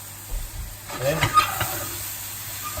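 Taco skillet meat seasoned with barbecue flavour sizzles in a pan while being stirred, a soft steady hiss with brief scraping movements in the middle; a voice talks briefly over it.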